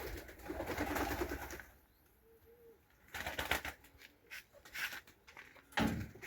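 Pakistani breed pigeons flying overhead, with soft cooing and flutters heard faintly at a distance against a quiet outdoor background, broken by intermittent louder rustling bursts.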